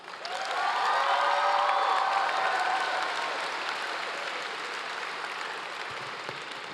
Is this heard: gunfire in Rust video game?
no